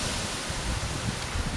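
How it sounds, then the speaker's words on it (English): Strong wind from Storm Ali roars at a rural cottage, a steady broadband rush with slight surges across the short stretch. "There's some pretty big gusts coming in."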